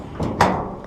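A truck tailgate swings open with a brief broadband clunk and rattle, a short scrape just before it, then a lingering metallic ring, close and fairly loud against a quiet background.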